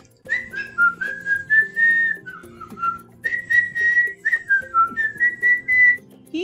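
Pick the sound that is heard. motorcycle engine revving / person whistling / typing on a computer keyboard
person whistling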